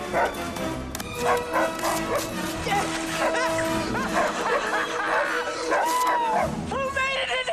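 A dog barks and yips repeatedly over music and voices, the barks coming in quick irregular bursts up close.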